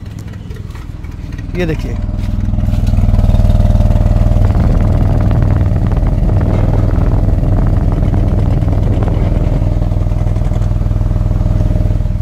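A Mahindra XUV 3XO MX1 petrol SUV engine runs at a steady idle, close and fairly loud, with a brief rise early on, while someone speaks briefly over the engine.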